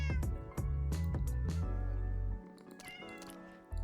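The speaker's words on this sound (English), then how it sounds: "we're gonna get 2 more cats" Black cats in Minecraft meow several times in a row, close and fairly loud, with short repeated cries over steady game background sounds.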